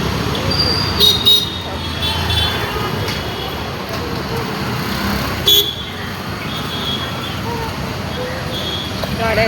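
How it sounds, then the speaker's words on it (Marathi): Steady roar of vehicles on a busy main road beside a large flyover near a crowded market, with a couple of brief horn toots rising over the constant traffic wash while people talk nearby. "गाड्यांचा खूप आवाज येतो."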